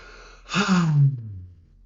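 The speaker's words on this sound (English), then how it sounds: "when you breathe out all the way" A single deep breath let out slowly and fully, rising into a loud, breathy rush that tails off into a low fading sigh, close and alone with no talk.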